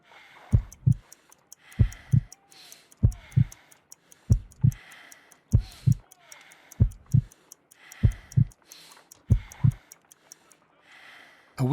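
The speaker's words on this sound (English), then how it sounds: "I need to concentrate and count the heartbeats." Heartbeat in the Sherlock Holmes: Crimes & Punishments video game: slow, evenly spaced paired thumps, clear and close, repeating about eight times with soft ticking between beats and no talk.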